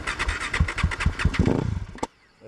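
Close and loud, a motorcycle engine cranks and fires, pulsing rhythmically for about two seconds before cutting off abruptly to near silence, with no speech.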